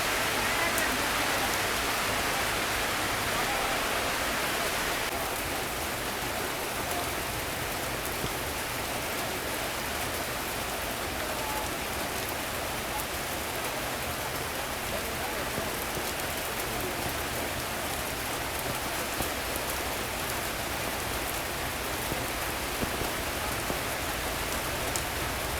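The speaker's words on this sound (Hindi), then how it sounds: "बारिश हो रही है बहुत ज़ोरदार।" Heavy rain pours steadily at Sairang railway station in Mizoram, a dense, loud, continuous hiss of drops on surfaces that carries on without a break from start to finish.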